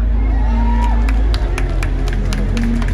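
A crowd at a retro-themed rock concert claps and cheers, a loud continuous wash of hand claps with whoops and scattered shouts lasting a few seconds, a low stage hum running underneath.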